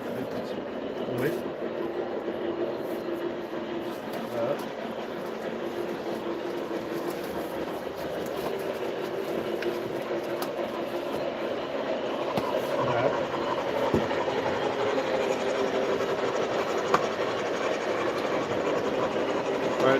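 An MTH Z6 model locomotive runs along its track with a steady, moderate rolling rumble and light clicking over the rails, growing slightly louder toward the end, with a voice talking at times.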